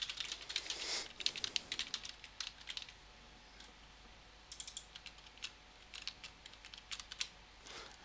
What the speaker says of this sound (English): You're ready to go and type in question 2 now. So double click and type that in.